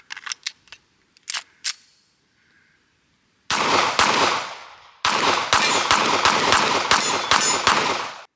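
A pistol fired in rapid strings at an outdoor range: a few light mechanical clicks first, then two long, loud runs of closely spaced shots whose echoes blur into a dense, continuous roar.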